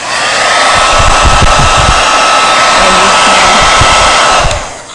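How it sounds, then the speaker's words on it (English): A hairdryer blows steadily at close range over wet ceramic glaze, a loud continuous whoosh that runs unbroken for several seconds before cutting off at the end. "We have a hairdryer."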